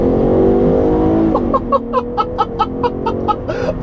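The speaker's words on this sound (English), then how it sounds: "I'm gonna flex this engine some." A 2013 Chevrolet Impala 1LTZ engine revving as it accelerates, a loud rising drone heard from inside the car, followed by a rapid pulsing rasp as it climbs through the revs.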